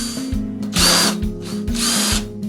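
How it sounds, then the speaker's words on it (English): A power drill pre-drills screw holes in a wooden backing board, whirring in two loud bursts that rise and then wind down, close to the listener. "Then pre-drill for the cup screws."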